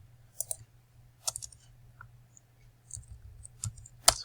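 Mouse clicks while opening a file in a code editor, several short, sharp, quiet clicks scattered over a low steady hum, including a quick pair near the end.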